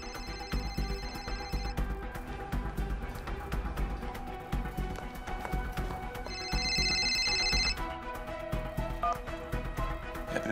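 A mobile phone rings indoors in two electronic bursts, one at the start and one louder burst a little later. Music plays faintly underneath the whole time and no one speaks.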